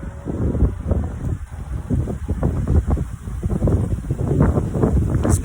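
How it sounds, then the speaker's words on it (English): Gusty outdoor wind buffets the microphone in irregular low rumbling bursts, close and fairly loud throughout with no talking. "It's windy out here"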